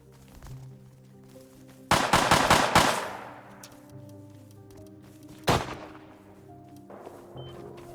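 Video game gunfire in Rust, a rapid burst of several shots followed a few seconds later by a single sharp shot, heard over a steady hum of game ambience.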